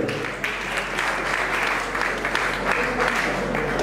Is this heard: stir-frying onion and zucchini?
no